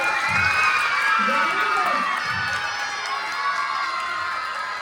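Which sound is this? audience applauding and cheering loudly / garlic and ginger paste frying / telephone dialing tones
audience applauding and cheering loudly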